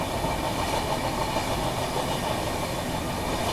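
Rajdhani Express hauled by a 22WAG9 locomotive running parallel to a goods train on the Dedicated Freight Corridor: a loud, steady rail roar with rolling wheel rumble and hiss throughout, no voices.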